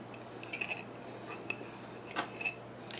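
A tool scrapes and clinks around the inside of a plant pot while a String of Pearls is repotted, producing faint, sparse metallic ticks and scratches over a low steady hum.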